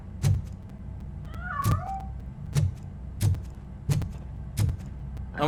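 A cat meows once in the video game Robocop: Rogue City, amid a steady series of heavy, evenly spaced thudding footsteps close by.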